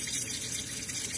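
Potatoes being washed under a running kitchen tap make a brief, steady hiss of flowing water, fairly faint and close, with no voices.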